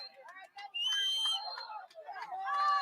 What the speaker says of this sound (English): The whistle will blow for a foul.